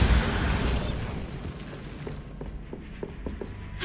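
A Bombarda spell explosion in Hogwarts Legacy: a loud blast at the start that decays into a long rumbling tail, followed by a few faint crackles and debris clicks.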